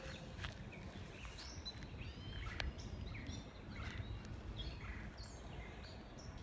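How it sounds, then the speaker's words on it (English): Birds chirp and tweet in a video game forest, scattered short calls over a faint steady background ambience, with no voices. "Birds, can I eat you?"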